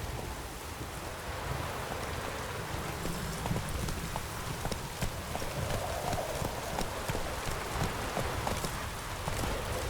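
Horse hooves gallop in The Witcher 3 with a steady, rhythmic clip-clop over a soft rain-like hiss, moderately quiet and continuous throughout.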